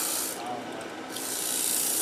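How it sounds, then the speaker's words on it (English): Continuous abrasive rubbing of sandpaper against a spinning wooden winged bowl on a lathe, close and steady, with a brief dip in intensity midway and no talking. "I promised Vaughn I wouldn't do much sanding, but I got to get rid of that tool mark."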